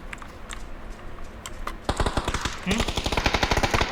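Gunfire in PUBG, with scattered faint shots first, then loud, close rapid automatic bursts firing in quick regular succession through the second half.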